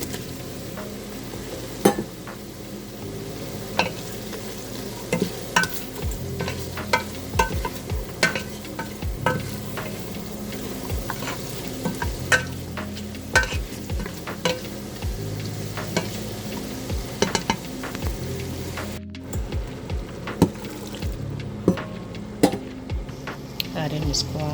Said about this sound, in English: Adding the lamb.